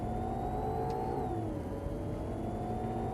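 An Audi R8 V10 pulling away after an upshift on a Las Vegas course, a steady mid-pitched engine drone with a gently falling whine, heard from inside the car with continuous road and wind noise.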